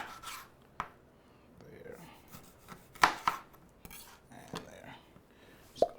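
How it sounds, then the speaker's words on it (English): Knife cutting a lime on a cutting board in a home kitchen, a few sharp chopping knocks at irregular spacing, close and clear against a quiet background. "you can just roll it on your cutting board and cut on both sides of the lime instead of cutting it in half"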